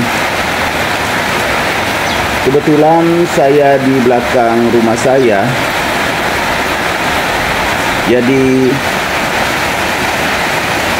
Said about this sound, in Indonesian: kedengaran suara hujan